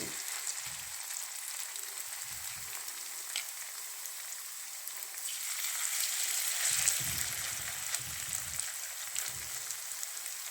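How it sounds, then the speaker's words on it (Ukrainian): Thick pumpkin potato pancakes fry in oil over medium heat, a continuous soft crackling sizzle that swells slightly midway, with occasional low thumps from the pan; no talking. "Обсмажуємо на олії з двох сторін до такого золотистого кольору."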